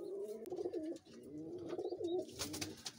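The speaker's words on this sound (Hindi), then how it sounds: "तो आए मैं आपको उनके कबूतरों का आज शौक कराता हूँ" Teddy pigeons cooing in a loft, a steady run of soft, throaty coos close by, with a few faint chirps and light rustling mixed in and no talking.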